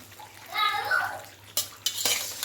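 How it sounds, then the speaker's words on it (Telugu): A ladle clinks and scrapes against a pot while stirring jackfruit curry with soaked pieces, several sharp metallic knocks near the end over a soft steady background hum. "గరిటెతో తిప్పుతూ కలుపుకోవాలి."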